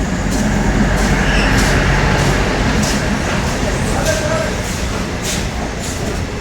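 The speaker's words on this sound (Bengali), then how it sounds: "চলে এলো ট্রেন আমাদের।" A passenger train pulls into a station with a loud, continuous rumble and wheel clatter close by, fading slightly toward the end.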